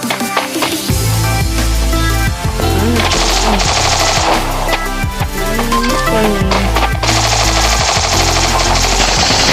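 Rapid video-game gunfire rattles in dense bursts, loud and continuous with layered effects, like kill sound effects from the mobile shooter Free Fire.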